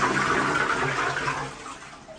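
A toilet flushing in a home bathroom, a steady rushing gush of water close by that fades slightly toward the end, with no voices.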